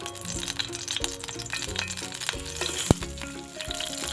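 Hot oil sizzles and crackles steadily in a pan, close and continuous, with a sharp clink partway through.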